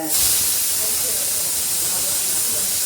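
A pressure cooker whistle: a steady, loud hiss of escaping steam runs continuously from start to finish, a sharp high-pitched jet of pressure release with no pauses.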